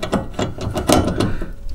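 A ratchet socket wrench with a 17 mm socket turns a long bolt on a V8 Miata's coilover suspension arm, giving a run of close, rapid clicking bursts with brief pauses in between.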